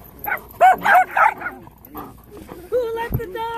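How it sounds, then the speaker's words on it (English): Several dogs yip and bark in short excited bursts at a ski area in Kicking Horse, British Columbia, mixed with people talking and laughing nearby. "So many dogs."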